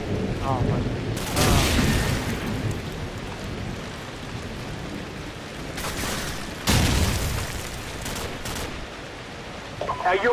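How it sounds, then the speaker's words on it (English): A stun grenade goes off in Call of Duty 4 amid constant rain-like game noise and scattered gunfire, with loud broadband bursts near 1 and 6.7 seconds. "Tossing stun grenade!"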